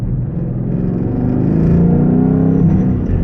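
Mustang GT with an MT-82 manual transmission rattling in low gear, a steady loud drivetrain rumble and engine drone with a faint metallic buzz riding on it, building slightly over a few seconds with no talk.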